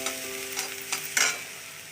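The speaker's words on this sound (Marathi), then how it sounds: "आपल्या भाज्या चांगल्या फ्राय झालेल्या आहेत आता मी याच्यामध्ये राईस घालणार आहे" Rice being added to fried vegetables in a hot pan for veg fried rice, a steady sizzle with a few scraping stirs and one louder scrape near the end, close and brief.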